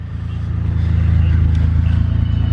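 A Mitsubishi GTO engine idles while warming up, giving a loud, steady low rumble with an even pulsing throb close to the microphone.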